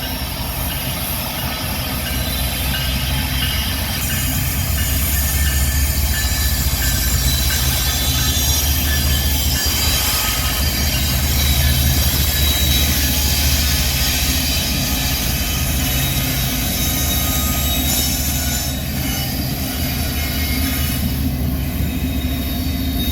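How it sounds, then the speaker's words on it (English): A GE-led coal train crawls slowly into a rail yard with a steady low rumble of locomotive engines and rolling wagons, and high wheel squeal running over it. "a GE-led coal train slowly crawling its way into the yard"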